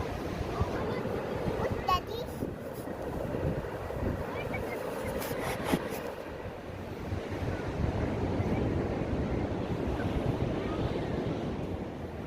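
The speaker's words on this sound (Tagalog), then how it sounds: "medyo malalaki yung mga alon" Steady rushing surf of fairly large ocean waves washing ashore at a beach in Lingayen, Pangasinan, with wind buffeting the microphone and faint voices in the background.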